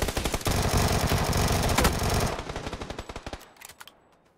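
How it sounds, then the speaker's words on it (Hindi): Rapid automatic gunfire in PUBG on PC, a dense burst of shots that breaks into scattered single shots and fades out. "हाँ कसम गोलियां चल रही है।"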